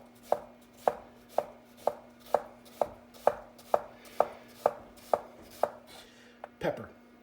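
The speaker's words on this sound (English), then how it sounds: "So we're just going to go very, very, very fine, minced." A knife minces food very finely on a board with about a dozen crisp, evenly spaced chops in a steady rhythm, close and clear, ending in a brief clatter.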